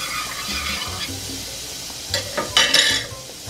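Butter melts in a pan with a soft, steady sizzle close by. Scraping and stirring sounds from a utensil come through, and a few louder clatters of the pan follow toward the end.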